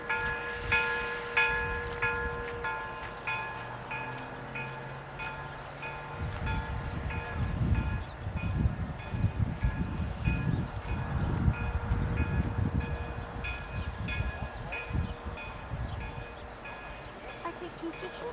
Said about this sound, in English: Now it's time for the train to go home.